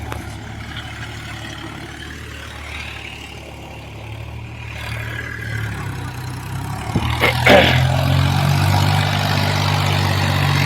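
A Massey 9500 Eco Smart 50 hp tractor engine drones steadily at close range pulling a 6-foot Agristar rotavator, its low rumble growing heavier and louder partway through as it works under load.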